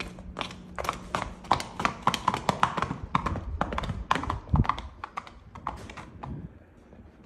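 Rapid, rhythmic hoofbeats of a horse loping on firm ground, steady three-beat thuds close by that slow and fade toward the end.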